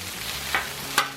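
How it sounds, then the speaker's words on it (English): Sweet peppers, onions and mushrooms toast in a pan over a low burner, a brief, soft sizzle with two quick stirring scrapes close by. "Peppers, onions, and mushrooms on this side. We're going to toast them up a little bit."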